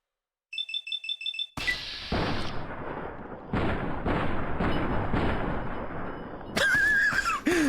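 Gunfire in Fallout: New Vegas: after a few quick electronic beeps, loud shots and bursts crack out one after another at close range, ending in a final intense volley with a ringing whine.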